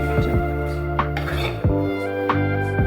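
Cooked brinjal bharta, roasted eggplant mash with fresh coriander, stirred in a pan: several close scraping and clinking spoon strokes against the metal at an uneven pace over a steady background hum.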